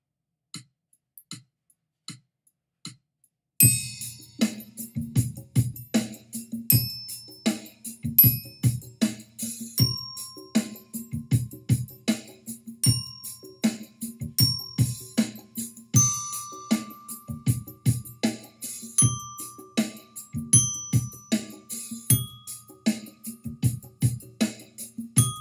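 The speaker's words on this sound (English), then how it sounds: "I'm going to play this opening line on my bells" A band bell kit (mallet glockenspiel) plays an opening melodic line of struck, ringing notes in a steady rhythm, close and clear, with sustained overtones; a few isolated taps come first, then the tune starts in earnest.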